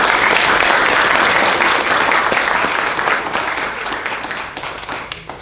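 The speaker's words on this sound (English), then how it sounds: "please join me to give a round of applause to." A crowd at a university history department lecture event gives a big round of applause: loud, dense clapping from many people that starts at full strength and gradually thins and fades toward the end, with no voices over it.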